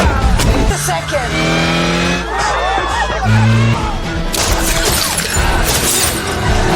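A hijacked car tearing through a movie car chase, with engine roar, squealing tires and crashing, shattering impacts, loud and dense throughout with sustained tonal whines layered over the action.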